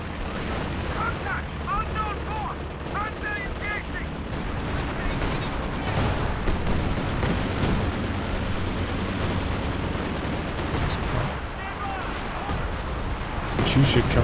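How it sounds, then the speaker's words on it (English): A Katyusha rocket artillery barrage in Company of Heroes 2, a long, dense roar of overlapping launches and explosions with gunfire mixed in, loud throughout and swelling at the end, with commentary heard underneath. "Katyusha coming in on the center"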